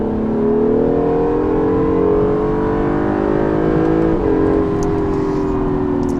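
A 2017 Acura NSX's V6 engine holds a loud, steady drone under load, its pitch climbing smoothly before a brief dip and then carrying on, heard close and sustained throughout.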